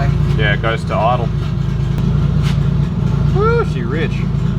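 A car engine idles with a low, steady rumble while people talk over it throughout, with the idle sounding slightly uneven at low RPM.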